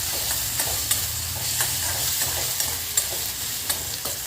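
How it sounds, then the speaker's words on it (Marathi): Onion and ginger-garlic paste stir-fry in a pan over a medium-high flame for Indian street-style veg Hakka noodles, a continuous close sizzle punctuated by regular scraping stirs. "त्याला छान आपण असं हाय फ्लेमवर परतवून घेणार आहोत खूप जास्तही हाय फ्लेम करायची नाही मीडियम टू हाय फ्लेमवर आपण छान परतवून घेऊया"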